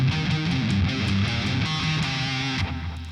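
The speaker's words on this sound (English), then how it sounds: "Palm muting is this." Palm-muted electric guitar playing, a fast, chugging run of tight, damped low notes with some distortion, steady and continuous.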